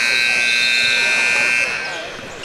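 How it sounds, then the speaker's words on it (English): A basketball game-ending buzzer at a Pro16 Richmond game sounds as a steady, loud electronic tone for about a second and a half, then fades, with crowd and arena noise underneath. "The buzzer sounds as Southern Ties prevails over TMA."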